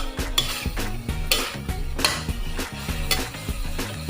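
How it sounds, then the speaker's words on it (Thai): Sucker fish meat is stir-fried in a pan, with a spatula scraping and clanking in a steady rhythm over a constant close sizzle. "ผัดเคล้าครับผม เนื้อปลาดูดนะครับที่รวนมาให้เข้ากับเครื่องปรุงก่อนนะครับ"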